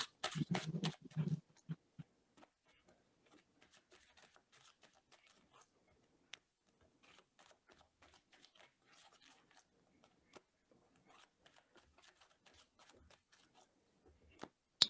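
Soft, irregular riffling and slapping of tarot cards being shuffled, a louder burst at the start then quieter scattered flicks and taps.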